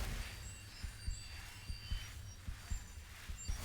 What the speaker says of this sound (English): Stop hearing my heartbeat in my own ears.